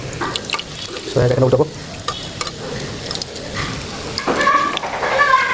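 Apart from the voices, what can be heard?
leaf fritters (pata bora) frying in oil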